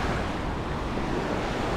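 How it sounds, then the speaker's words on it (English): Sea surf washes steadily at Jomtien Beach in Pattaya as feet wade into the water, a constant broad roar of waves mixed with wind buffeting the microphone. "just putting my feet in the water now"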